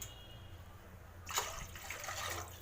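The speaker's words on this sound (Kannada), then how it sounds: "ಮೂರು ಗ್ಲಾಸ್ ನೀರು ಹಾಕಿದ್ದೀನಿ" Water pours into a pot of soaked rice for simple pulao, starting as a steady, close splashing trickle after about a second of quiet kitchen background.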